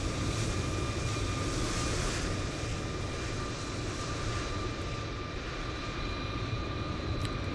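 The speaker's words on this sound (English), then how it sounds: "We've got some big heavy taxiing by here." A heavy airliner taxis past in a flight simulator, a steady broadband engine roar with a faint whine, constant and fairly close throughout.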